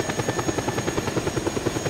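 Attack helicopter in the video game Just Cause 2, its rotor thumping in a steady rapid rhythm with a constant engine whine, loud and close, with no talking.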